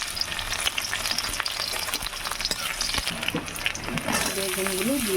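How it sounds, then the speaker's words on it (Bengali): Eggplant and potato frying in a pan with oil, a steady broadband sizzle with stirring clatter throughout, and a voice briefly speaking near the end. "বেগুনগুলো দিয়ে দিচ্ছি, আলুটা আমি এর মধ্যে দিয়ে দিয়েছি, একটু ভেজে নিই"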